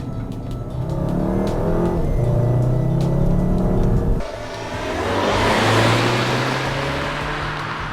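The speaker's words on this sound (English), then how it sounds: "You can get on the gas, the shifts are super fast, super quick, it holds the gears for you" A 2016 Volkswagen Jetta GLI with a 2.0-litre turbo engine pulls hard in manual mode, its engine note rising steadily, dropping sharply at a quick upshift, then climbing again in a loud, close, continuous roar.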